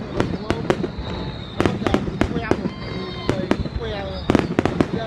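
A fireworks display on April 30 at Cua Lo: a rapid series of sharp bangs and crackling bursts, some with whistling trails, with people talking and cheering in the crowd nearby.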